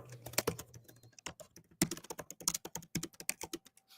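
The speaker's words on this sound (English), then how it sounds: "The typing." Rapid typing on a computer keyboard, close by, with irregular bursts of sharp key clicks that speed up and pause over several seconds, alone without talk.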